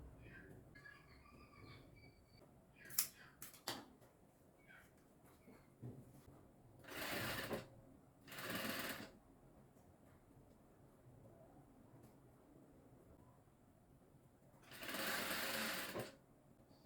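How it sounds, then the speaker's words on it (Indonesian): Sewing machine stitching the elastic strap of a niqab, three short whirring bursts spaced apart with faint clicks and handling noises between, close and fairly quiet. "Sekarang aku mau jahit tali karetnya dulu karena mau pakai sendiri."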